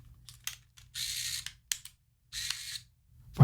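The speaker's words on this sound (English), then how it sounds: "fire the shutter, and you cock it" Rollei 35 AF compact film camera being operated, a quick series of close mechanical clicks and short whirring motor bursts separated by brief pauses, with no talking.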